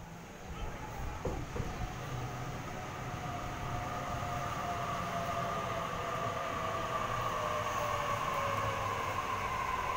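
A Sydney Series 1 Waratah electric train, set A78, arriving at Campsie station platform, a steady loud rumble with a rising motor whine and squealing brakes, heard up close on the platform.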